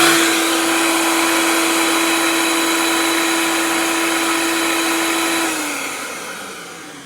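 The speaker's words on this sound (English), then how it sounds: "It'll even run the Vitamix." A Vitamix blender runs off a portable power station with a 2500 W inverter, giving a loud, steady high-speed whir with a constant motor tone that holds for about five seconds, then spins down and fades.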